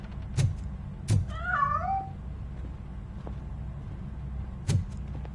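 A cat meows in the video game RoboCop: Rogue City, giving one wavering, drawn-out cry between a few dull thumps and footsteps, close and clear with no talking.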